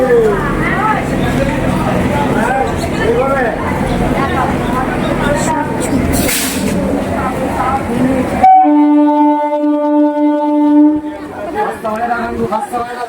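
A local passenger train on the Howrah to Nabadwip Dham line rumbles steadily along between stations amid carriage chatter, then a long, loud horn blast cuts through before the rolling clatter resumes.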